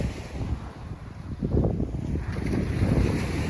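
Blustery wind on a Florida beach during surf fishing, a continuous rushing roar that buffets the microphone and swells louder partway through, with no voices.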